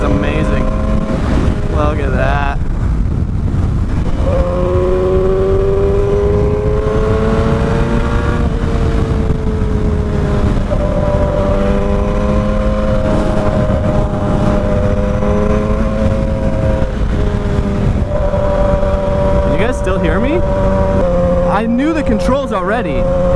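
A Yamaha 600cc motorcycle engine on the road, its revs climbing and falling through the gears under heavy, constant wind rush.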